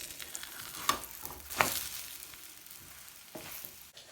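Egg and tortilla topped with sun-dried tomato pesto frying in a pan, a soft steady sizzle with a few brief crackles and pops.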